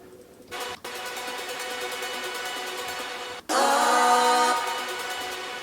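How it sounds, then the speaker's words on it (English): A synthesizer arpeggio plays repeating bright tones inside a music track, starting softly and then swelling into a louder, denser passage after a brief cut, with no voices. "I added an ARP sound, this one."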